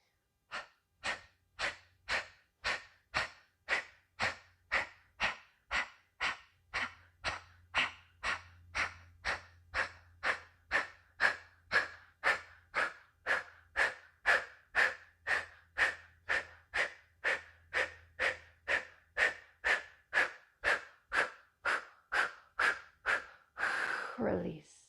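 Rapid, forceful exhales in yoga breathing for the solar plexus, roughly forty sharp nasal puffs in a steady fast rhythm, close and clear, with a faint low hum beneath and a longer breath at the end.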